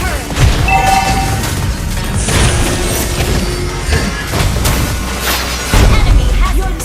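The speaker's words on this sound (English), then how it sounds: "Destroy the turret!" A turret is destroyed in Mobile Legends, with heavy booms and crashing impacts layered over continuous game sound effects, loud throughout, and game voice lines heard alongside.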